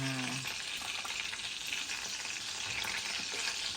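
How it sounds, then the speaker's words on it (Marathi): Garlic fries with cumin in a hot pan, giving a steady, dense sizzle and a few faint stirring scrapes, with no talk during the sizzle. "लसूण टाकलाय तो तो थोडासा चेपून घ्यायचा"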